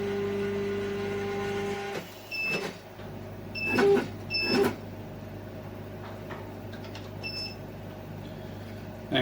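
Laser engraver head moving into position over clamped material, heard as short mechanical whirs and clicks around a steady electrical hum, with a few brief tonal beeps in a quiet workshop.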